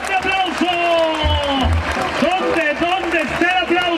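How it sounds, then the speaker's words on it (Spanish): At a jaripeo in Santa Fé de la Laguna, Michoacán, a crowd claps and cheers under loud, sliding tones that are likely music, with a continuous wash of applause throughout. "Regálame un fuerte aplauso."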